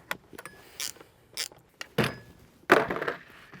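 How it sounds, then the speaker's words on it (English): Small metal clicks and ratcheting taps from tightening a nut on a string trimmer head with a screwdriver, several short separate bursts up close, no voices. "So you gotta hold the back width of the nut with 3/8 and then tighten her down"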